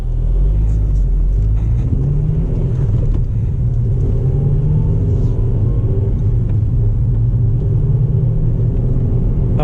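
A 2009 Honda Civic Si pulling out into traffic, its engine a steady low rumble heard from inside the cabin, loud and continuous with road noise throughout.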